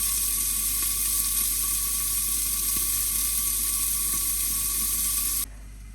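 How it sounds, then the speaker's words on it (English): Meatballs sautéing with garlic and onion in a pan give a steady, even sizzle with a faint whir beneath, close and unbroken until it cuts off near the end, with no talking. "Now I'm going to saute my meatballs and garlic and onion."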